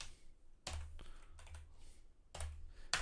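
Computer keyboard being typed on while programming code, a few quiet separate clusters of key clicks spaced out with short pauses between them.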